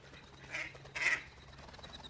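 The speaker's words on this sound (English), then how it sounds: "we've got lots of ducks as well, just sunbathing" Mallard ducks quack in a farmyard under trees by a pond, two short quacks a half second apart, fairly close but modest in level over quiet outdoor background.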